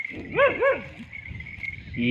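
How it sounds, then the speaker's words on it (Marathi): Dogs outdoors on a morning where animals are let out to graze, giving two quick, close barks in a row, followed by a steady background hum and faint low murmuring. "सैन आली कुत्र्यांची"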